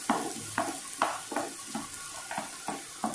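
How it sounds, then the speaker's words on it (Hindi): Onions frying in oil in a pan for chana dal paratha filling, a soft steady sizzle broken by regular stirring scrapes about twice a second, close and fairly quiet, no talking. "यहाँ प्याज को हमें हल्का सा पिंक होने तक फ्राई करना है।"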